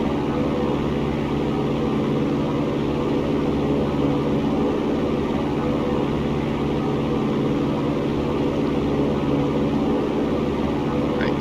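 A light aircraft engine drones in flight in the X-Plane 11 flight simulator, a loud, constant, unvarying propeller hum and roar that holds steady without a break.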